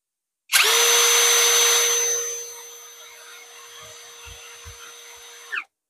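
APR AP21+ power tool running at its lowest speed setting: a steady motor whine with a sharp tonal hum, starting loud and bright then settling into a quieter even drone before cutting off, with a few soft knocks near the end.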